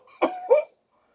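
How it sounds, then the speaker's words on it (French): Two quick, close coughs, acted out by a storyteller's voice as Father Christmas chokes, then silence. "Hoquette, tousse encore."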